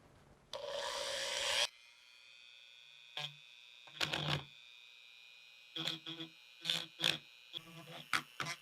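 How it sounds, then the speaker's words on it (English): A Dremel rotary tool cutting away wood beneath a wooden chair during a repair gives a thin steady motor whine broken by short, gritty bursts of grinding as the bit bites in. "I'm gonna use this Dremel tool and just go underneath there and remove some of this wood"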